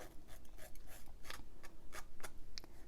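Quick, crisp snips of scissors cutting paper card stock come up close in a short uneven run of small strokes over a quiet room.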